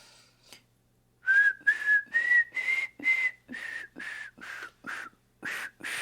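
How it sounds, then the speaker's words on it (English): A person whistles a melody in a video game, a steady run of about a dozen sustained notes rising slightly in pitch, each note separated by short breaths, close and clear with no talking over it. "Can you whistle it back to me?"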